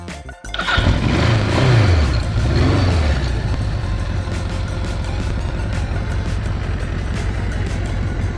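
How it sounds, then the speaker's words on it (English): A 1982 Suzuki GS 1100 motorcycle engine cranks and fires after a brief starter whir, then settles into a loud, steady, rumbling idle with a few throttle blips. It sounds close by, and no one speaks over it. "I'll just start the bike, and you'll hear how it goes."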